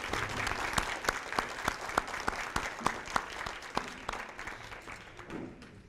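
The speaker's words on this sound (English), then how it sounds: "please, big round of applause" Audience applause at a university hall of honors banquet in Eastern New Mexico, steady clapping from a room of guests with a few sharper individual claps standing out, gradually thinning toward the end.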